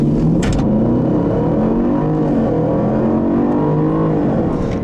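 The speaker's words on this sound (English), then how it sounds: "And you can see this car's acceleration is just blisteringly quick." A supercharged 2015 Range Rover Sport accelerates hard on the road, its engine a loud, steady roar with rising and shifting tones heard from inside the car, with no talking.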